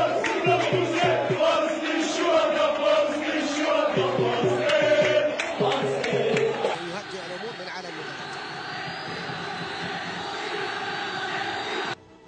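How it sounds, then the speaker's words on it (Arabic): A large crowd of football fans roars and chants continuously at 5 July Stadium in Algeria as flares are lit, dense and energetic, with a loud swell before easing into a steadier, thinner crowd noise. "تعالت هتافات بعض الجماهير وإطلاق شماخيخ كثيف"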